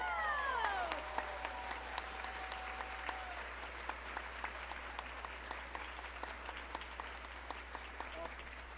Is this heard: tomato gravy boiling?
no